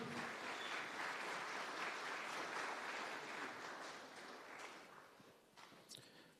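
Audience applause at a tenth-anniversary celebration, steady dense clapping filling the room before thinning and fading out toward the end.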